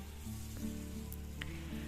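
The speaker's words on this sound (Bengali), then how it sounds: "খুন্তি দিয়ে খুব ভালোভাবে এটাকে নেড়ে ছেড়ে নিতে হবে যেন একটু ভাজা ভাজা হয়ে যায়" A bhetki fish mixture fries in a pan while being stirred with a spatula, giving a soft, steady sizzle with faint scrapes and no voices.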